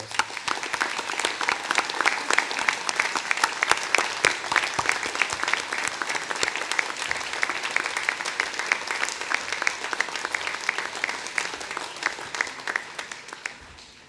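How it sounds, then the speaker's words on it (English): Loud, continuous crowd applause at a degree ceremony in Torquay, dense clapping from a large audience sustained for the whole stretch before tapering slightly at the end. "let's give them a massive round of applause"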